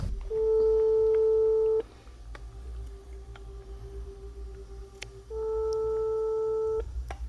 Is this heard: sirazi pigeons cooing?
no